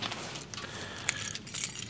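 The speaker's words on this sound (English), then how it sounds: "truck keys, office keys, whatever." A bunch of truck and office keys jangles close by in short, irregular metallic rattles and clinks, with no talking.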